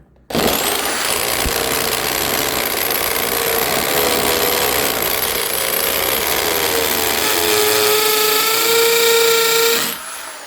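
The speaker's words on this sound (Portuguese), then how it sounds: "Agora vou mudar para esse lado de cá o martelete, só para vocês verem." A rotary hammer drill in hammer mode bores into a hard hole, a loud continuous rattling hammering that runs almost unbroken for about ten seconds, close up, then cuts off.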